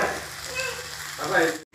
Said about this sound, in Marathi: आपण तवा ठेवलेला आहे त्याच्यावर फ्राय करायचे